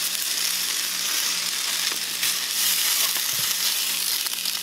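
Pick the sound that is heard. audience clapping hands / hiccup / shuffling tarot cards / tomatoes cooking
tomatoes cooking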